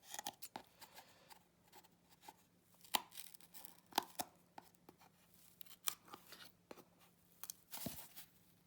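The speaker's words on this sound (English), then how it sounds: "So now I'm gonna do the same thing where I cut these." Scissors cut yarn strings on a cardboard loom, a scattered run of sharp close snips and crisp tearing sounds at irregular intervals over a faint steady hum, with no talking.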